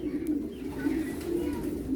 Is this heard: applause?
no